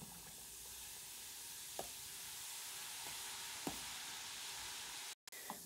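Baking soda dissolving in water in a tank, a steady broadband fizz that holds evenly throughout, with a few faint clicks on top and a brief dropout near the end.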